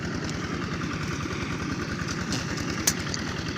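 An engine-driven pump draining a pond for fishing chugs steadily with a fast, even mechanical pulse, continuous and fairly close, with a brief sharp click partway through.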